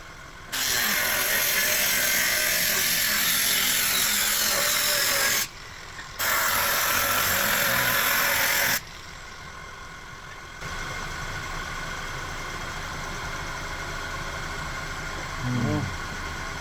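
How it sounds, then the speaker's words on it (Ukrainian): A power tool cuts open a VW Passat B7 heater core radiator, a loud grinding burst of several seconds, a brief pause, then another burst, followed by a lower steady mechanical hum. "зробимо розрізання цього радіатора, подивимося, що в ньому"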